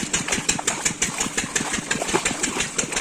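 An irrigation water pump engine runs in a farm field, a close, loud, steady thumping idle with a rapid regular beat that continues unbroken throughout.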